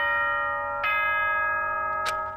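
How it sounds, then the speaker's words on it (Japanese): Chime from the video game Danganronpa: a bright, sustained tonal ringing with a couple of fresh struck notes layered in over about two seconds, heard alone. "チャイムだ。"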